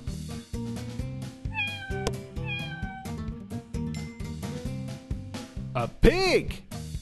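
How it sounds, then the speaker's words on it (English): A cat meows a few times over upbeat background music, the short calls rising clearly above the rhythmic backing. "cat"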